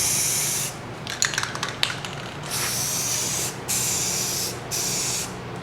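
Aerosol spray paint hissing in bursts onto motorcycle side covers for a Blue Collar Bobber kit on a Yamaha V-Star 1100, with several steady sprays of a few seconds each, close and loud, and short pauses between them.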